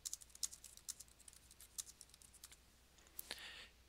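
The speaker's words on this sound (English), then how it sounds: "and just type" Quick bursts of typing on a computer keyboard, soft clicking keys in short irregular runs, close and quiet with no voices.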